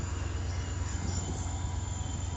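A FrontRunner commuter train passes through Clearfield station, a steady, even rail rumble that fills the short stretch without a break.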